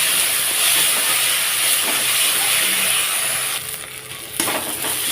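Spice paste with a whole head of garlic and chilli sizzles in a pan, a loud continuous frying hiss that dips briefly near the end before resuming.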